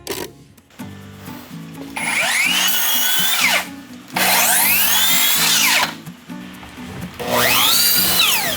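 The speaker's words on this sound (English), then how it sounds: "Then I screw the riser from the back." A power drill drives screws into a wooden riser on a handcrafted fourteen-step staircase. There are three loud, close bursts, each with a motor whine that climbs and falls as the screw seats, separated by short pauses.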